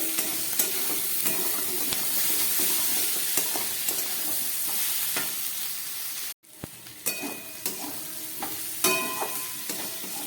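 Ground spices and dry chilli powder stir-fried in a pan over a low gas flame, a steady close sizzle with repeated spatula scrapes, briefly cut off midway before the frying and stirring resume.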